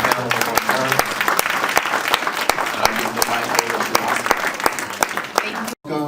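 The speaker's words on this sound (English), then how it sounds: "Clap it up for the panel one more time." Close, crisp applause from a symposium audience for a panel, sharp individual claps layered over a steady crowd wash, continuing for several seconds before a sudden brief cutoff near the end.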